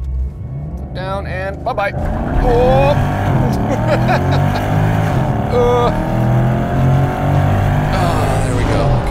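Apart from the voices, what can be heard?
naturally aspirated V8 Porsche Panamera accelerating from launch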